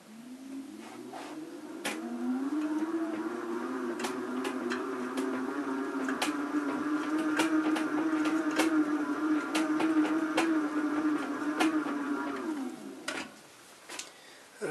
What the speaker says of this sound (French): actionner la roue et le générateur va produire du courant pour faire allumer l'ampoule